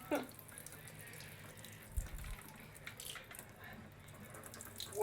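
Tap water runs steadily into a sink over cooked pasta being cooled off in a kitchen, a constant hiss and splash with a brief thump partway through.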